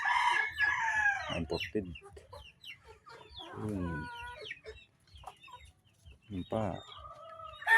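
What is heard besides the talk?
chickens and roosters crowing and clucking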